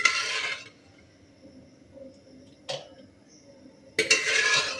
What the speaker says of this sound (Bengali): এবার প্রেসার থেকে আমি এই ওলের ঝালটা বাটিতে ঢেলে দেব।